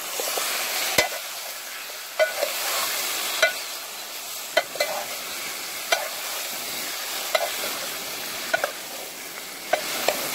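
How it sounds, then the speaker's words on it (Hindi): Meat frying in a pot, stirred with a ladle: a steady sizzle with regular sharp scrapes and knocks of the ladle roughly every second, close and clear. "अब इसको कड़छी से हिलाएंगे।"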